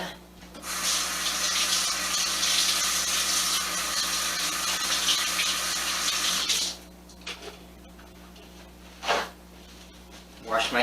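A kitchen tap runs steadily for several seconds as hands are washed in the middle of preparing grilled lemongrass chicken skewers, then shuts off, leaving a few faint clatters and splashes.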